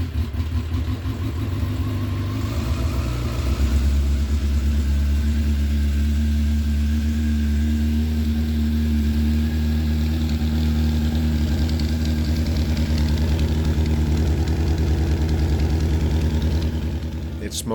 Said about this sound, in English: The bike wasn't hard to get running after that.